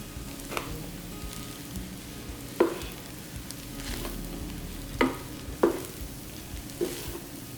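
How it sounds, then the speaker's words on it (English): Fried rice seasoned with white pepper being stirred in a hot pan: a soft continuous sizzle with sharp spatula scrapes and clacks every couple of seconds, close up and moderately quiet. "I'm gonna go ahead and mix everything together"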